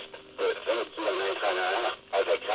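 Motorola T800 handheld radio tuned to the weather band plays a broadcast voice in short bursts, somewhat tinny and close, with brief gaps between phrases.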